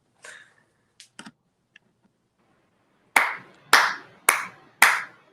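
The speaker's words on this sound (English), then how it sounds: "We want to hear you guys clapping, right?" Sharp hand claps ring out at an actors' live show, a few scattered soft taps first, then four loud evenly spaced claps close by.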